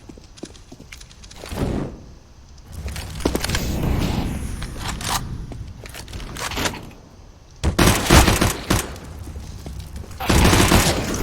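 Heavy .45 pump rounds fire in a competitive first-person shooter match, coming as a few loud, separate bursts against a busy background of in-game noise.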